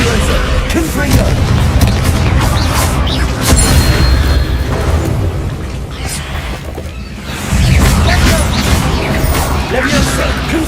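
Spell explosions from Bombarda and Confringo cast in Hogwarts Legacy combat: loud, dense booms and crashes pile on top of one another with whooshing effects, a continuous chaotic barrage with a brief lull midway.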